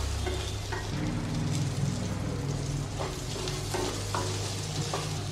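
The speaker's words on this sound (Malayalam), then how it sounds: "ഇടയ്ക്കിടയ്ക്ക് ഇളക്കി ഇട്ട് കൊടുക്കണം" Food frying in coconut oil crackles and sizzles steadily in a pan, with a spoon scraping through it in several distinct strokes as it is stirred, close and loud with no talking.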